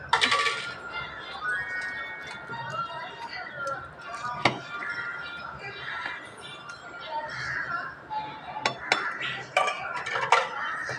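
A spoon scrapes and clinks against a pot while a rice and vegetable kootanchoru with rock salt is mixed in a Sri Lankan Tamil kitchen, giving repeated close metallic taps and scrapes with a voice at times.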